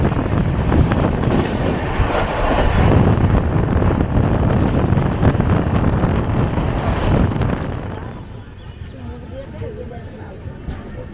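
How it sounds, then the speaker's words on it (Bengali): The 12871 Ispat Express runs on after pulling out of Karshila station toward West Bengal, a loud, steady rushing rumble with wind buffeting that drops to a quieter rolling hum for the last few seconds. "ট্রেন ছেড়ে দিয়েছে কারশিলা থেকে"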